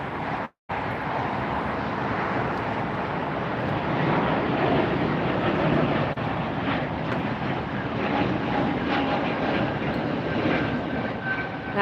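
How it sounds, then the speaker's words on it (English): A Porter Airlines jet passing at LAX airport, a continuous broad roar of engine noise with wind buffeting, loud and steady for about twelve seconds after a brief dropout near the start. "That was a Porter airline that crossed our screen."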